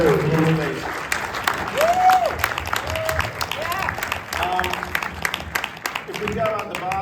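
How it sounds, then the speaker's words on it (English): Festival audience applauding after a film Q&A, a continuous moderate clapping texture mixed with voices and chatter from the crowd. "Let's give a huge round of applause, please."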